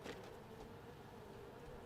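Flies buzz in a House Flipper 2 video game seaside cottage, a faint steady drone lasting under two seconds, alone without talk.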